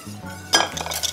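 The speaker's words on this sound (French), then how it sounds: "Voilà, je mélange bien." A utensil knocks and scrapes against a bowl as clafoutis batter with melted butter is mixed. Clinks and a scraping stir come up close over a low steady hum.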